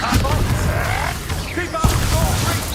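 In Hogwarts Legacy, a Confringo spell explosion booms under combat noise and shouted spell names, with a dense, rumbling blast texture throughout.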